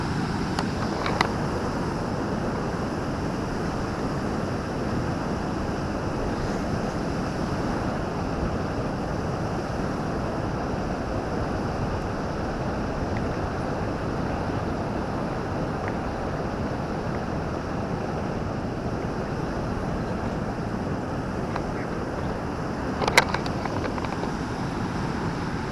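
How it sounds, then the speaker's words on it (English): Rapids near Niagara Falls rush in a constant broad roar of churning water, steady and close throughout with no voices. "Closer to the falls you get, the more rapids you see."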